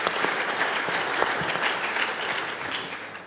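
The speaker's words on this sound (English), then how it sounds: "We should give the Chamber a round of applause" Conference audience at the Mackinac Policy Conference applauding the organizing Chamber, a loud, sustained round of clapping with sharp individual claps standing out and faint voices underneath.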